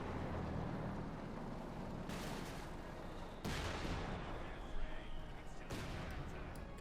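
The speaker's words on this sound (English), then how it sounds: "Last thing with the high explosive rounds to go." Tank cannon firing high explosive rounds in the real-time strategy game Company of Heroes 2, several heavy booming shots spaced a second or two apart over a constant dense battle roar, fairly distant and muffled.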